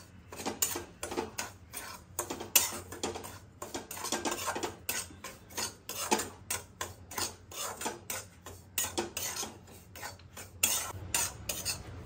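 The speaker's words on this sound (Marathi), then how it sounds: "आधी कणिक थोडी भाजून घ्यायची, कोरडी, मंद आचेवर।" Whole wheat flour dry-roasting in a pan on a low flame, stirred with a utensil that scrapes and clinks against the metal in a quick, irregular rhythm, close and fairly quiet.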